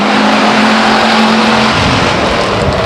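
Race cars accelerating hard out of turn four at Stockton 99 Speedway, a loud, dense engine roar that fills the whole stretch, with a low droning pitch that shifts partway through as the pack drives past, no voices.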